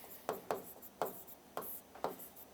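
Marker or chalk strokes on a classroom board, five short scratchy squeaks spaced roughly half a second apart, close and fairly quiet with no talking.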